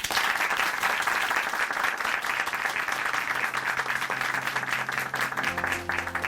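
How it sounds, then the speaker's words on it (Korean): Congregation at Chuncheon Hanmaum Church applauding after a testimony, a dense, steady wash of clapping from a full room that holds loud throughout, with a faint sustained musical tone entering near the end. "오늘 귀한 간증 전해주신 자매님께 다시 한번 박수 부탁드릴게요."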